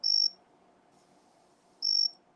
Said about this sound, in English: Even the crickets love it.